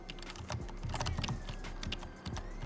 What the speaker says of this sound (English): Keyboard ASMR.